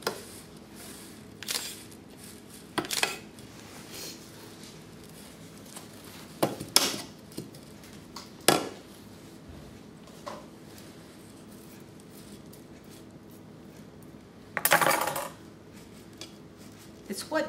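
Toasted coconut being stirred in a pan, giving scattered scrapes and clinks of a utensil against cookware, close and fairly quiet, with a few louder knocks and a person speaking in between.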